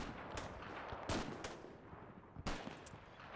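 Gunfire from the video game Combat Mission: Fortress Italy, faint and distant, with a few sharp shots and short bursts spaced over a low battlefield rumble.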